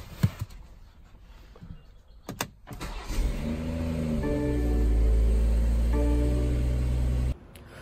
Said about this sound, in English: Let me pull it out for you guys so you can tell.